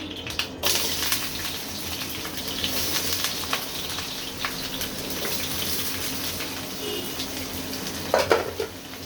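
Chopped onions frying in oil for beef chap bhuna, a continuous close hiss and crackle with a few spoon clinks against the pot, no talking.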